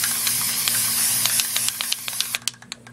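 An airsoft gun gets spray painted in a steady aerosol hiss that runs for about two seconds, then breaks into short, sharp bursts near the end.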